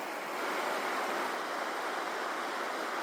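Bumping River water rushing past on a summer afternoon, a broad, steady whooshing roar that fills the whole stretch without pause, close and fairly loud, with no voices.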